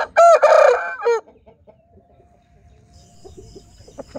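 A chicken clucks loudly and close for about a second, followed by quieter, scattered clucks and faint background noise.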